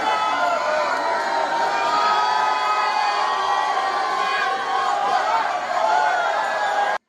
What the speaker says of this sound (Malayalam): 11:30-ഓടെ ആർപ്പുവിളികളുടെ അകമ്പടിയിൽ കൊടിയേറ്റം